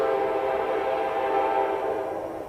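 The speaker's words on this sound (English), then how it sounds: "a few blocks away, there is a choo-choo, but we've gotten so used to it, so excuse the choo-choo" A train horn sounds from railway tracks a few blocks away in a residential valley, one steady sustained blare lasting the whole moment, moderately loud, with no talking.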